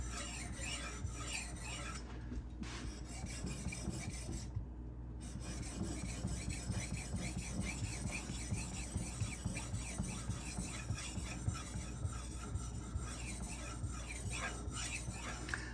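A kitchen knife is sharpened on a sharpening stone with steady, rhythmic rasping strokes of steel on stone, quiet and continuous, with no talking.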